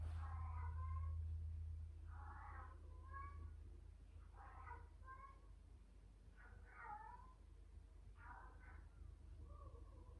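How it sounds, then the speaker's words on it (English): A cat meows repeatedly, about five drawn-out calls spaced a couple of seconds apart, close by, over a low steady hum. "I suppose my cat's having their say into it too"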